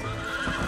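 Horse whinnying loudly and continuously while being broken in Red Dead Redemption, a close, strained neigh with faint hoof clatter beneath it.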